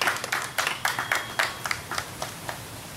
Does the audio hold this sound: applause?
yes